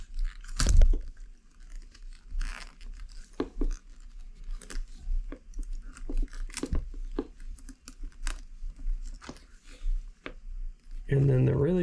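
Scissors snipping the ends of cheap hearing protection for a bump or ballistic helmet, with scattered crunchy cuts and crinkling handling noises while a person talks throughout.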